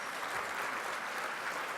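Steady applause from an audience at a corporate anniversary celebration, a dense even patter of clapping hands held at moderate distance for the whole stretch, with no voices over it.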